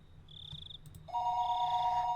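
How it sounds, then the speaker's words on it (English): Telephone ringing in the Higurashi visual novel game: an electronic trill that steps up into a loud, steady ring held to the end, with no voices. "the phone rang once again"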